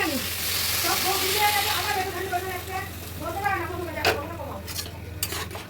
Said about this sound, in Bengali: এবার আমি এই যে গরম জলটা এর মধ্যে দিয়ে দিচ্ছি পরিমাণ মতো